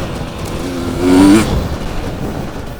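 A race car engine in the video game TORCS, in a 250C class race, swelling loudly as throttle is applied before settling back to a steady drone.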